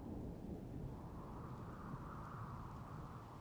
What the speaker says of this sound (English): Hey, there it is, the rain.